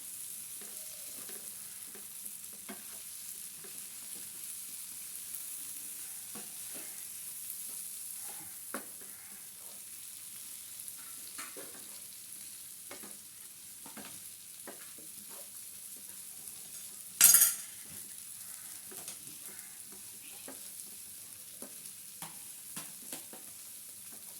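Chicken, fried earlier, being mixed into a masala in a pan for chicken macaroni, giving a steady low sizzle with soft scraping stir strokes throughout and one brief louder clatter near the middle, no voices.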